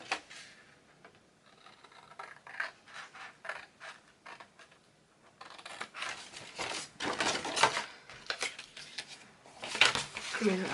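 Paper is cut along score lines while making a gift bag, giving close, faint snipping and crinkling that grows busier toward the end, with a voice talking throughout.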